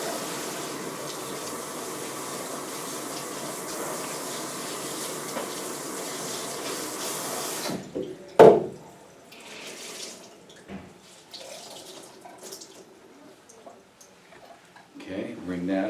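Cool water runs from a tap into a sink in a barbering demonstration, a steady gushing stream for about half the time. It then stops, leaving clanks and handling noises and faint talk.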